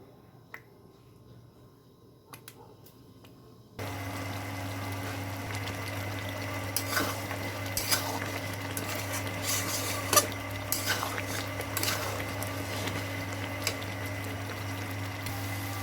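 Meat and potato curry with lentils being sautéed and stirred in a pot, with scattered clinks and scraping of a utensil against metal over a constant low cooking hum, close and moderately quiet.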